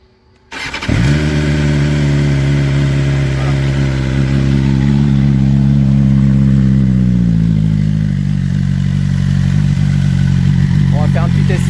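A 2020 BMW S1000RR motorcycle engine fires up after a brief silence, then idles loud and close with a high steady drone that shifts as the revs rise and settle, a voice talking over it.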